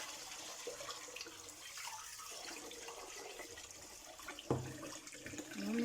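Faint running tap water splashes and trickles steadily over rice being washed in a quiet room, with a brief knock partway through.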